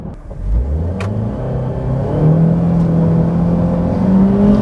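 A 2004 Hyundai Accent drives and accelerates, its engine droning loudly from inside the cabin with a steady rising hum and rumble.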